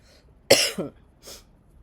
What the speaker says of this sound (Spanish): Estuve con un poquito de tos.